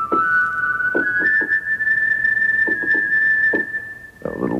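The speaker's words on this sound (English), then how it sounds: "A little whistle sound." A synthesizer plays a thin, steady whistle-like tone held for several seconds over soft accompaniment, part of the 1986 Poltergeist II score being built up, with no voices.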